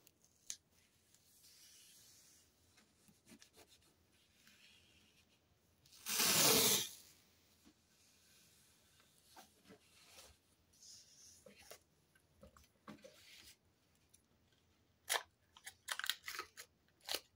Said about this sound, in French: C'est sûr que c'est des ciseaux qui collent, qui coupent pas